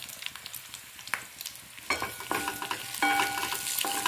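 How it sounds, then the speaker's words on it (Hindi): Golden-brown onions frying in a pan with a spoon of turmeric are stirred for a South Indian rasam: soft scraping taps at first, then a brighter crackling sizzle swells up and carries on alone to the end. "हल्दी को डालकर थोड़ा सा हम चलाएंगे।"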